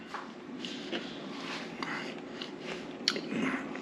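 Crunchy fried bacon-like snack sticks being bitten and chewed up close, several soft crunches spread across a few seconds, with faint background noise.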